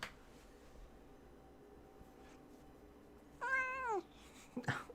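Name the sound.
pet cat meowing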